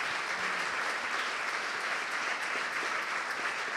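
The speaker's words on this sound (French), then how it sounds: "Je pense qu'on peut les applaudir." A conference audience applauds panelists at the close of a session on resilience to extreme climate events, a dense, even wash of many hands clapping at a steady level throughout.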